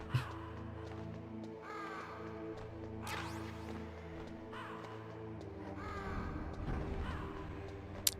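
Raven cawing in Metal Gear Solid, several harsh caws spread across the stretch, heard over a steady game soundtrack hum and occasional mechanical clanks.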